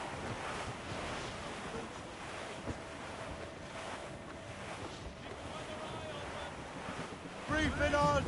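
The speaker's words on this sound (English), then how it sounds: "Wind's getting vicious." Strong wind roars across open sea in Assassin's Creed Rogue, with waves surging against a sailing ship in a steady, dense rush. A brief voice rises near the end.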